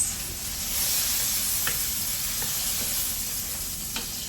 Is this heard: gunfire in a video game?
no